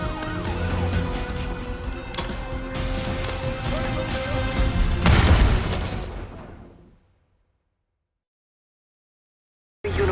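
Grenade blast in Call of Duty Black Ops 6: a loud burst erupts amid ongoing combat noise, then fades into a ringing decay and near silence before sound abruptly returns.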